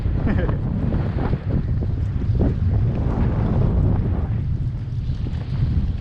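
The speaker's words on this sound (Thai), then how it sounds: "ลมก็แรงมาก" Strong wind roars and buffets the microphone in a constant low rumble on a rocky shore by a deep-water port, with faint water-like wash underneath and no clear speech.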